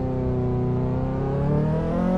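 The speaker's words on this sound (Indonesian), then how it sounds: "woi dari tadi knalpot berisik amat dah" Noisy Mazda exhaust revving in a Roblox driving game, a loud, steady engine drone climbing slowly in pitch, with no voices over it.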